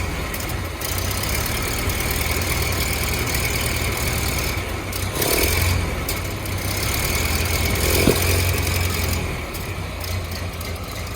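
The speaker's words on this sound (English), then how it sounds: "Rev it up a little bit." A 1931 Ford Model A Tudor Sedan engine runs at a steady, loud, close idle with a low rumble, rising slightly in a few brief revs and settling again.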